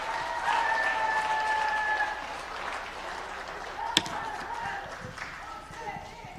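Applause from an audience in a Seoul hotel hall welcoming a speaker at a rally of national security civic groups, steady clapping with crowd noise and a sharp bang partway through, a voice briefly heard over it.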